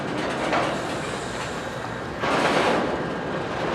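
A Norfolk Southern mixed freight train backing up to couple with other cars in Berryville, giving a continuous rolling rumble with two louder surges of grinding rail noise.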